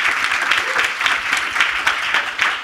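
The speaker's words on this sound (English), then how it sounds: "A round of applause for that." An audience at a William Julius Wilson Institute panel event gives a warm round of applause welcoming the panelists, a steady, dense clapping that holds evenly from start to finish.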